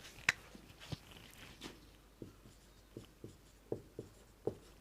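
Chalk or marker taps and short strokes on a board in a Class 12 chemistry lesson on solutions, a quiet, sparse series of scratchy ticks and brief scrapes with no talking.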